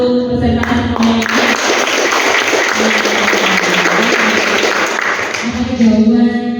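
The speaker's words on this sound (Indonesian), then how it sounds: "Boleh aplaus untuk peserta semuanya." An audience at the opening of a forest seed training course in Bogor bursts into loud, sustained applause for the participants, with a voice speaking before and after.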